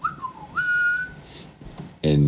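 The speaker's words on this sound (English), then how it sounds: "You whistle like this." A person whistles to call mules, a clear close melodic whistle that slides down and then rises into a held note before stopping, followed by a brief loud burst of other sound at the end.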